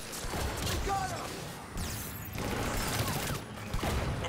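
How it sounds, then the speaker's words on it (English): Gunfire from a firefight in the video game Mass Effect 3, with volleys of shots and crashing impacts that keep coming in dense bursts under voices talking. "Just following the gunfire."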